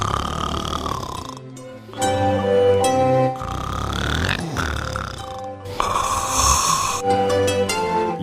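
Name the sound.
dog snoring sound effect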